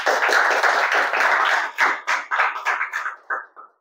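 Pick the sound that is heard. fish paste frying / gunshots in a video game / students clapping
students clapping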